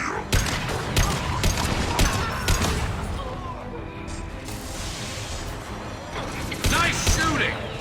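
Mass Effect 2 combat: rapid bursts of gunfire rattle out loud and close, with sharp volleys clustered early and late around mechanical clanks and scattered voices.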